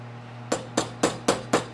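Five sharp metallic hammer taps land at a steady rhythm on a silver inlay ring setting, each strike crisp and close over a faint low hum, with no talking.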